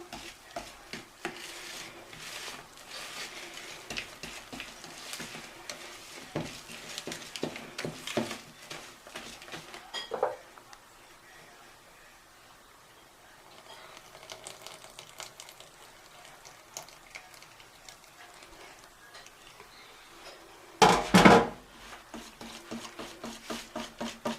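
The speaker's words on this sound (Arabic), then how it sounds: "نقلب كده بالراحه" Tiger cake batter is gently stirred in a bowl, soft, rhythmic scraping taps that are fairly quiet, easing off midway before resuming, with one brief louder clatter near the end.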